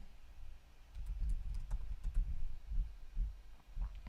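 Fingers tap out an address on a computer keyboard while filling in a web store checkout form, a quick, uneven run of soft, close keystroke clicks.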